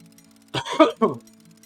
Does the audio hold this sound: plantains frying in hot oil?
no